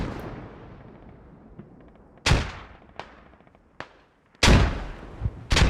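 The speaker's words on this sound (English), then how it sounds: "Oh, the grenades were short." Several grenade blasts in a military shooter game, each a sharp loud boom with a decaying tail, arriving in an irregular series with quiet gaps between them.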